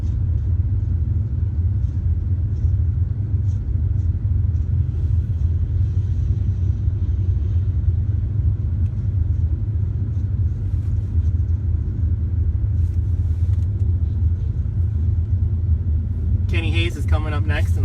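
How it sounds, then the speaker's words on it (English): Sand drag buggies in a Pro Gambler time-trial class idle and rev on the starting line, a loud continuous low engine rumble throughout, with a brief higher burst near the end. "Looks like we got a couple buggies up on the starting line."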